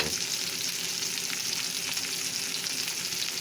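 Steak sizzling in a hot pan, a dense continuous hiss and crackle with scattered spits and pops, steady and close, no talking.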